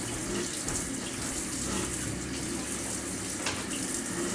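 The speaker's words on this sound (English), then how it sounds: "I forgot to turn the cat's water on." Steady running water from a cat's water fountain or tap fills the whole stretch as a continuous, fairly loud broadband rush with no talking over it.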